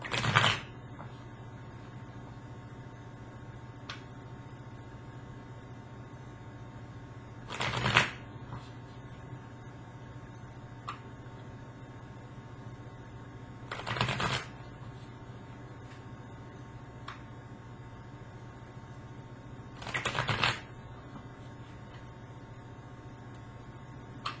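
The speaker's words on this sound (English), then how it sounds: "Do a quick shuffle." Tarot cards being shuffled in four short riffling bursts spaced several seconds apart, close by, over a low steady hum and a few faint ticks.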